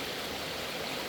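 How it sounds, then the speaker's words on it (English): Creek water flows steadily outdoors at a homestead cabin, a continuous broadband rush and gurgle, faint and even with no voices. "I love this creek when it's flowing like this, where it's not too crazy and it's just got good water flow"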